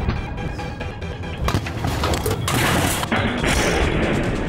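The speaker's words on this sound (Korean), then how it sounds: "갑자기 폭발이 일어났습니다." A frozen butane gas canister heated in water on a portable gas stove explodes, shattering the pot and stove: a loud, sustained roar of blast and crashing debris, dense and chaotic with sharp bursts layered over heavy low rumble.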